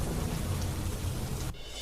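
Heavy monsoon rain pours down in Vadodara, Gujarat, as the Dhadhar river floods, a dense, steady roar of rainfall with a low rumble beneath, loud and continuous throughout.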